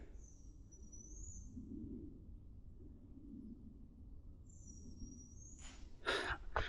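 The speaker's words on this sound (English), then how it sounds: "What a weird bird sound." A large bird outdoors gives two drawn-out, high, thin whistling calls a few seconds apart over a steady low wind-like rumble, ending with a few sharp rustling bursts.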